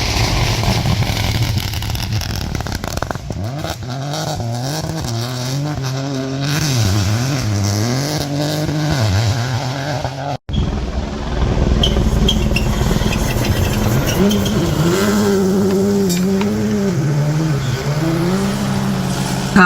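Rally cars at WRC Rally Estonia 2023 roar past loud and close, their engines revving hard and rising and falling through gear changes, with one brief cut partway through before another car screams by.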